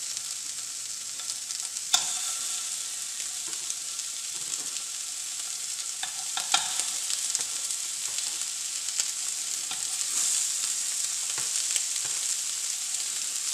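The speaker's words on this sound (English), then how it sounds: "Put them in the hot pan, we get a nice sear on them." Meatballs searing in a hot pan, a steady, fairly soft hiss of frying with occasional pops and faint shifting noises.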